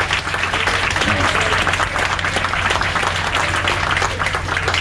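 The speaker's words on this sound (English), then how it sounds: "one more time a nice round of applause for our captain and hotel manager" Applause from passengers aboard the Viking Vidar cruise ship for the captain and hotel manager, a steady dense wash of clapping over a low engine hum, continuous and fairly loud throughout.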